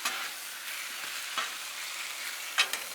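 Steak sizzles steadily on a hot Blackstone steel-top griddle, a continuous close frying hiss broken by a few sharper spatters and scrapes near the end.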